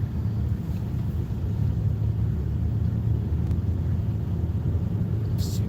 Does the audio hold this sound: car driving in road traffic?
yes